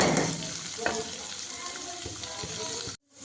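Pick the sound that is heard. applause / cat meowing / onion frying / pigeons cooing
onion frying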